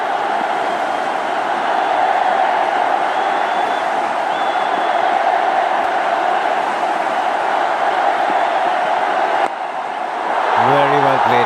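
Stadium crowd at a cricket test match cheering Sachin Tendulkar's innings against the West Indies, a steady, broad roar of many voices sustained throughout, easing briefly near the end as a voice begins.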